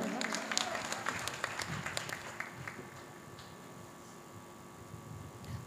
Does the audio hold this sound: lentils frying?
no